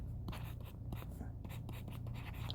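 Pen or marker writing out a quantum mechanics problem solution, steady close scratching strokes in short bursts over a low room hum.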